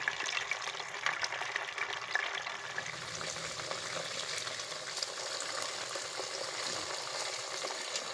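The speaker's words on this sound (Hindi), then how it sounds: "सारी मछली को हम इसी तरह से फ्राई कर लेंगे।" Fish fillets shallow-frying in oil in a pan while fish curry is prepared, a steady soft crackling sizzle that holds evenly throughout with no voices.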